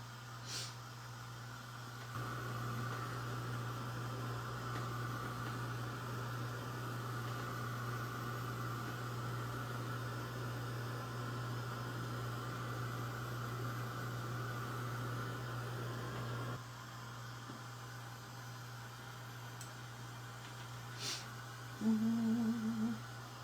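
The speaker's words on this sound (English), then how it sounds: "I am loving this dryer. It's so quiet and it does a really good job." A quiet clothes dryer hums with a steady low drone and soft airy whir, running evenly and faintly before the noise drops slightly near the end, followed by a couple of brief clicks.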